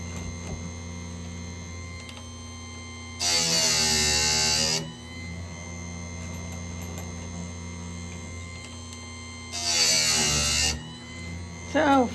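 A chainsaw chain sharpener machine grinding the chain, two separate bursts of loud high-pitched grinding each lasting a second or two, with a ticking background between them.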